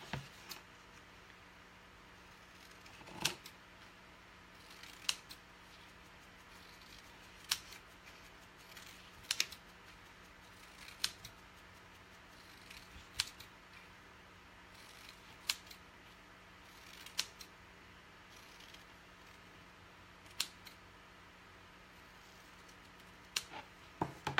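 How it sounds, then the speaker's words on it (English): A vinyl cutter or blade slicing vinyl letters for a craft project, a steady series of faint, sharp snips and clicks spaced every second or two over a quiet background hum. "I'm losing letters, so I'm going to have to cut them first."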